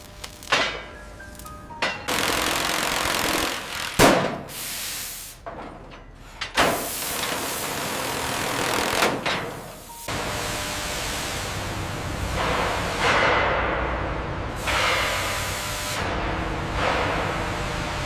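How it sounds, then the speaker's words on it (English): A cutting torch fires up for welding work on a ship hull, giving repeated bursts of harsh, roaring hiss that start and stop several times, then settle into a longer, steady rushing noise. "Start the welds. Firing up torch 3."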